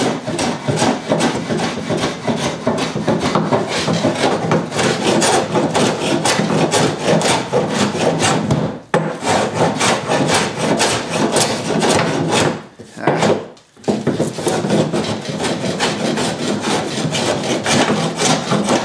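Steady hand sanding or scraping on wooden planking during a small boat build, a continuous rasping rub that runs loud and close with two brief pauses, no talking.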